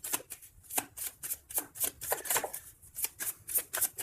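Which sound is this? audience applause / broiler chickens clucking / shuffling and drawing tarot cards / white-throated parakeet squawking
shuffling and drawing tarot cards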